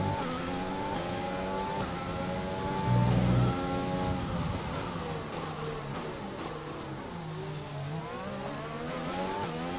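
Race car engine in the F1 2020 video game during practice at Bahrain, a steady high whine that climbs and drops with gear changes and a brief louder burst partway through, close and continuous without speech.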